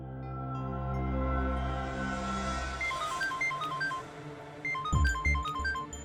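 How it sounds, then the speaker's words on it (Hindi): A phone ringtone chimes a bright, repeating beeping melody, starting after a stretch of low background music and continuing to the end. "उसी का फोन है।"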